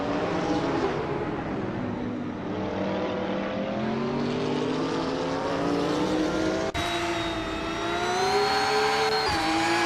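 Racing cars in a video game, a 1995 BMW M3 GTR Evo among them, with engines droning in a steady high whine that rises in pitch, then an abrupt cut to another loud revving engine tone, with no voices.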